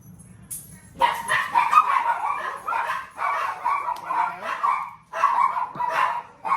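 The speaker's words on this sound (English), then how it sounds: "So the dogs are greeting him." Several dogs bark and yip excitedly at a person arriving home, in a near, continuous burst of overlapping barks and whines, loud and busy throughout.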